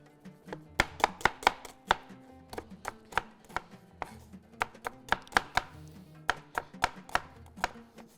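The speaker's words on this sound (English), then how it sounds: "Cut the onions." Knife chopping onions on a cutting board in a home kitchen, a fast irregular run of sharp, close, distinct chops that keep going steadily with short pauses, no talking.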